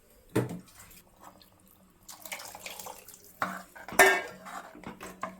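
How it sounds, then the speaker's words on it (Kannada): Chana masala stirred in a pot after water is added: a ladle or spoon clanks against the metal in a few sharp knocks, with soft scraping and sloshing between them. "ಚೆನ್ನಾಗಿ ಮಿಕ್ಸ್ ಮಾಡಿ ಇನ್ನು ಸ್ವಲ್ಪ ನೀರು ಸೇರಿಸ್ಕೊತಾ ಇದ್ದೀನಿ ನಾನು."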